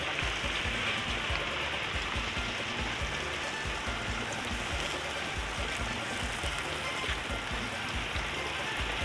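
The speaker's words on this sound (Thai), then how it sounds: "ฝนตกครับ" Steady rain pours outdoors in southern Thailand, a dense constant hiss of drops on surfaces that never lets up, fairly loud and close, with no distinct speech.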